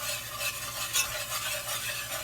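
Whisk stirring flour and seasoning into hot oil left over from a deer steak on medium-high heat for gravy, a steady close scraping swish over a soft sizzle, with no talking.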